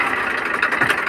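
A 2006 Massey Ferguson 1035 DI tractor engine in original condition running, a loud steady diesel churn with slight pulsing, close by and without talk.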